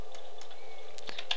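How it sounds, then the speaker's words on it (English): Fingers tap out a date on a computer keyboard in a few quick, light keystrokes over a steady background hum, close and without talk. "you can just type"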